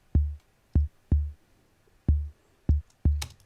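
Six unprocessed 808-style bass drum hits in an irregular pattern, each a deep boomy thump with a short click on top and a quick decay into silence, heard alone without talk.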